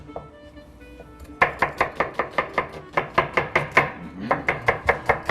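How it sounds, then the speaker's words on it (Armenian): Knife chopping an onion into half-moon slices for Armenian mushroom soup, a steady run of sharp, close cuts on a board starting after a quiet moment and continuing evenly, with no talk. "Կտրատեք սոխը կիսնալուսնաձև, եթե կարելի է։"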